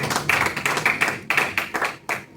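A congregation claps in praise of Jesus Christ at a multilingual church service, a short burst of uneven, overlapping hand claps with no voices.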